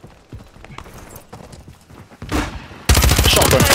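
Shotgun fire in the video game Modern Warfare 3, sharp loud blasts among clattering game effects and rapid gunfire, with a dense burst of shots at the end.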